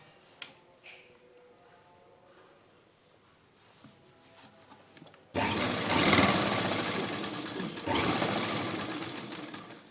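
A sewing machine stitches pearl-beaded lace onto fabric, quiet at first and then running loud and steady with a rapid whirring hum, broken by one short pause before it resumes.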